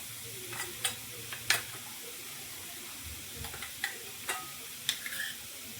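Spices such as turmeric, black masala, coriander and red chilli powder go into a cluster bean curry, which fries softly while a spoon clinks and scrapes in the pan in scattered, close, fairly faint strokes.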